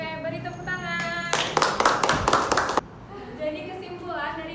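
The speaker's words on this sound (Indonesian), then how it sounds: "Oke, beri tepuk tangan." Schoolchildren in an elementary classroom clap in a short, loud burst of about a second and a half, with a teacher's and children's voices heard before and after it.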